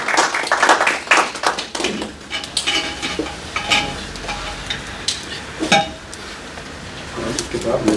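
Applause at a mushaira poetry gathering in Ealing greets a poet arriving to recite, heard as a lively burst of clapping from a seated audience that thins out into scattered claps.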